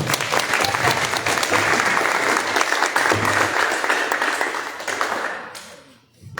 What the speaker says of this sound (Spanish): nuevamente un aplauso porque se lo merece